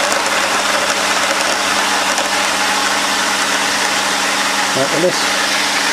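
An ECP Group pump kept running by a Pumpstat after priming itself gives a steady, loud mechanical drone with a constant low hum throughout, while someone speaks briefly near the end.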